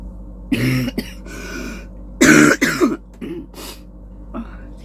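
A few harsh throat-clearing coughs close to the microphone inside a caravan, coming in short bursts with quiet gaps between them.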